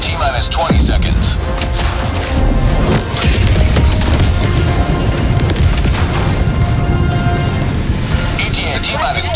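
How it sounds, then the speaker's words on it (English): An orbital strike pounds the ground in the shooter game Helldivers 2: a loud, continuous barrage of heavy booms and splintering crashes that fills the whole span, with voices calling out over the din. "Requesting orbital strike! Firing orbital strike."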